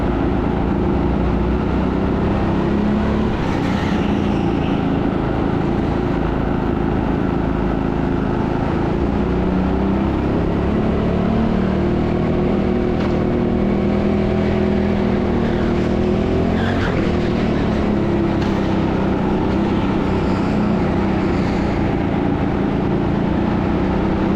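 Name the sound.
go-kart engines racing on indoor track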